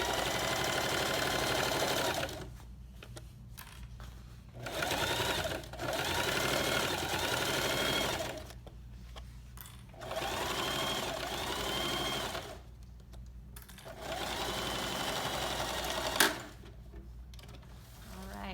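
A sewing machine tacks zipper fabric onto a tote bag, running in several close, steady mechanical bursts with short pauses between them.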